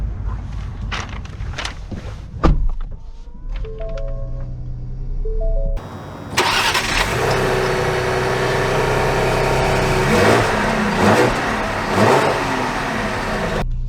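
A 2023 Ford Explorer Platinum SUV: a few clicks and a thump, then the engine fires up and settles into a loud, steady run, rising slightly as it pulls away, with no talking.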